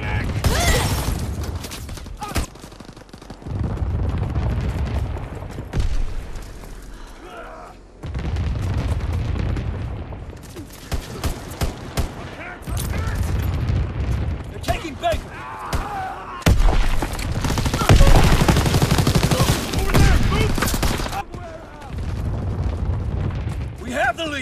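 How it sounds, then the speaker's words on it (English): Call of Duty WWII battle sounds: repeated heavy grenade and artillery blasts with bursts of gunfire, loud and close, arriving in several separate waves while voice lines and radio callouts play between them. "Fire in the hole."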